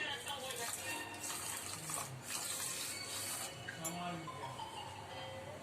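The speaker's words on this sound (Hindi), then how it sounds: "मैंने ये पानी डाला।" Water pours into a pot of sugar for an amla murabba in a home kitchen, a steady, fairly faint splashing trickle under light background noise.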